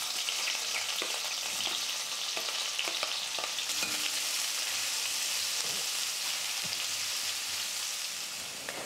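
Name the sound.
onion frying with garlic in a pan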